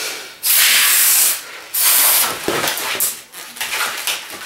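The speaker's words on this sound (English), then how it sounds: "These are going to be blown up about 5-6 fingers again" A hand pump forces air into red 260 twisting balloons for balloon art, two long loud hissing strokes followed by softer, uneven rubbery squeaks and rustles.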